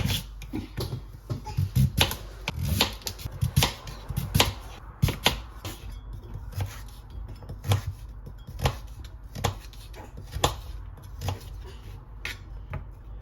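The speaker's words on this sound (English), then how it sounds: "These are always so hard to cut, especially because my knife is blunt." A blunt knife chops food on a cutting board, with a string of sharp, irregular knocks and clacks that are close and fairly loud, set against a quiet kitchen background.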